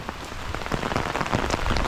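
Steady rainfall drums on nearby surfaces, a thick irregular patter of drops that grows slightly louder toward the end, with nobody speaking.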